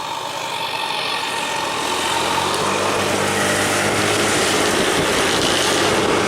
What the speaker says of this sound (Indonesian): Knalpot ngorok Septian